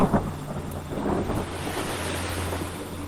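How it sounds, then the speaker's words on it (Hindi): Ocean surf washing in on a shore, a steady broad roar of water with a low rumble and some wind noise, continuous and fairly loud throughout. "एक लहर आई और उसने आंखें बंद कर उसको महसूस किया।"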